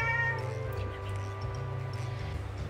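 A house cat meows in drawn-out, wavering calls at close range, repeated over a low steady background hum.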